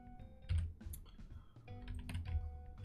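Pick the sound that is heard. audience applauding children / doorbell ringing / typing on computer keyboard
typing on computer keyboard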